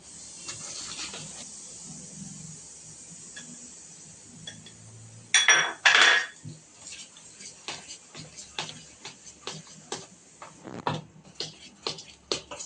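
Cake batter with milk powder being mixed in a bowl, a soft wet scraping and swishing with irregular clinks and taps of utensil against the bowl, growing more rhythmic toward the end.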